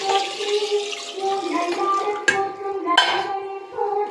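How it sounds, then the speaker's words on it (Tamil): Water pours and splashes into a metal pot set up to boil eggs for egg bonda in a home kitchen, a steady rushing flow with a couple of sharp clanks of the pot, close and fairly loud. "கொஞ்சம் தண்ணி ஊற்றிக்கிறோம்."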